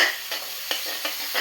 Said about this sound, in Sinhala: එන්න හොඳට හයියෙන් කලවම් කරගන්න